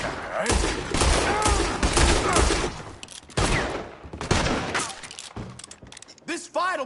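Dense bursts of gunfire from a PS4 video game crackle in loud rapid volleys with thuds and shattering, mixed with in-game character voices shouting.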